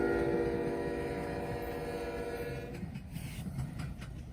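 Norfolk Southern intermodal freight train NS 282 led by locomotive NS 4001 rumbles past heading north, its engine drone and tonal hum fading into rolling wheel clatter as the cars go by, no talking.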